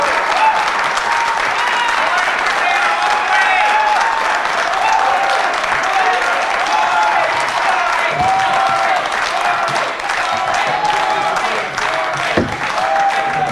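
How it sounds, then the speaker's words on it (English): Sustained applause from a debate audience at a Toronto mayoral debate in Jane-Finch, steady dense clapping filling the room for over ten seconds with some voices mixed in. "A round of applause."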